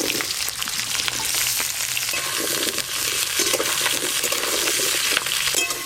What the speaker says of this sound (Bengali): তাই আলু গাজর একসঙ্গে প্রথমে একটু ভালো করে ভেজে নেব।